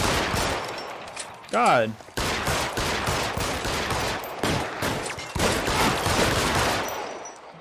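Gunfire in a gritty crime video game, repeated shots and bursts sounding through most of the stretch, fairly loud and close, with a brief voice breaking in.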